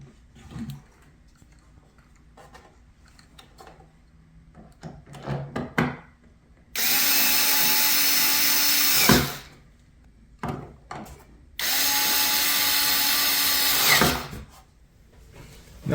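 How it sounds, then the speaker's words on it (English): A power drill drives two screws to fit a stand onto a budget 50-inch Hisense 4K TV, with two loud sustained whirring runs after some soft handling clatter and taps close by. "we're going to install our 2 screws"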